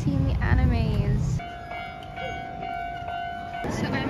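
A train passes a railway level crossing in Tokyo, its steady rolling rumble joined by a sustained ringing crossing tone after someone talks over the opening moments, with the street ambience continuing throughout.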